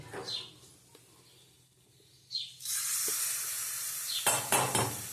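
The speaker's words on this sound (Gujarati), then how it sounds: "હવે આપણે આ ચટણીમાં વઘાર દેવાનો છે" Quiet kitchen sounds, then a loud burst of sizzling as hot spice tempering hits a chutney, crackling steadily with a few sharper spits near the end.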